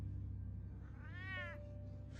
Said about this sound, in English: Oh, look who's back. It's a kitty cat.